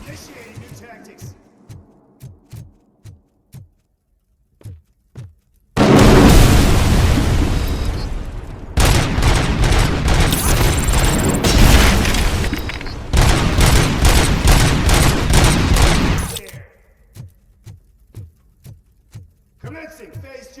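Sustained bursts of heavy gunfire and booming explosions in Robocop Rogue City, loud and dense across the middle, framed by short sharp pops and a synthetic voice speaking at start and end.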